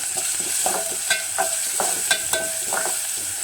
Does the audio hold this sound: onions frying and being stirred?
yes